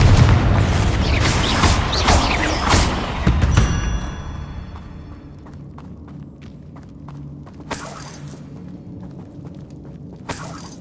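A fiery explosion spell from the Hogwarts Legacy video game bursts loudly with several heavy booms, then fades into quieter debris thuds, footsteps and a couple of sharp later impacts.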